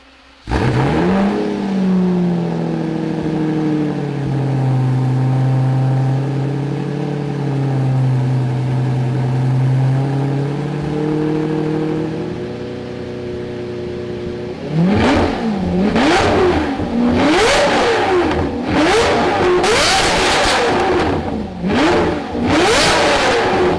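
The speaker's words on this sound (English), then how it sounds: "You guys didn't hear the orange Lambo start." A Lamborghini engine fires up and settles into a rumbling idle, then is revved hard several times in a row, each rev rising and falling sharply.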